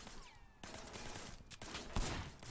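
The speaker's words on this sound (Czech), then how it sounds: "Střílejte do zvýrazněných objektů." Gunfire in the video game Sleeping Dogs: a dense, rolling clatter of rapid shots fills the whole stretch, loud and continuous with a sharper burst near the end, game sound with no talk.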